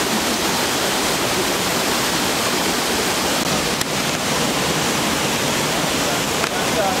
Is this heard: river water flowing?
yes